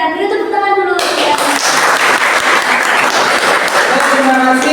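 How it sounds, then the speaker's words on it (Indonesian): Students in a Class 9 madrasah lesson break into applause after a short spoken cue, a dense burst of clapping that carries on steadily for several seconds before a voice returns near the end. "Dulu tepuk tangan dulu."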